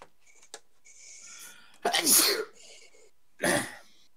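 Two sharp, loud human sneezes, the first around two seconds in and a second shorter one soon after, heard close in a quiet room, with faint talk before them.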